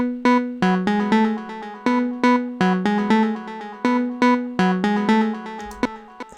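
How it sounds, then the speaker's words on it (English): Three layered synth lead sounds for progressive house, played dry without any processing, form a bright plucky melodic line of short staccato notes in an even rhythm, clean and up front, with no voice. "So I have this 3 layers of leads and they sound like this on their own."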